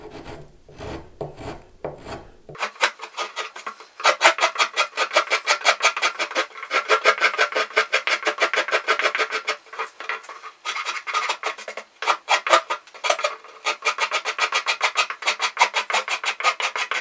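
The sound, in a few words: rasp filing wood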